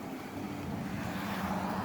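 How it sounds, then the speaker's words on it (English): Strong wind blows outside at night, a steady broadband rush with gusty swells, fairly faint and continuous, with no talking. "Guys, it's very windy out."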